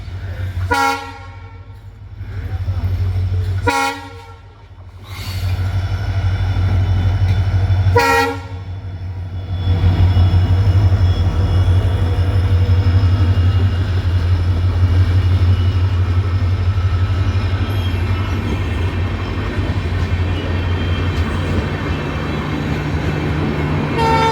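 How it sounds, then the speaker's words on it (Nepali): A train approaching slowly from behind rumbles steadily and loudly close by, with a few short horn blasts near the start before the low engine drone carries on. "पछाडि बिस्तारै आउँदैछ ट्रेन।"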